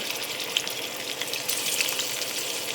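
Hilsa fish fry in hot mustard oil, a dense, steady crackling sizzle with occasional sharper pops, close up and continuous.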